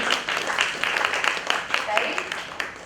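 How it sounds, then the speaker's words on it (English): Applause from a seated audience at a talk on social media and AI, a dense, steady patter of many hands clapping at moderate volume for about three seconds. "Do one thing for me, clap for yourself for showing up."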